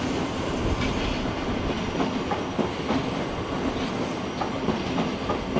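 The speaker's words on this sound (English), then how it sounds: "Seven oh seven is now arriving." A Class 707 electric train arriving at London Waterloo station, loud continuous rolling rumble with rhythmic wheel clatter, close by and without talk.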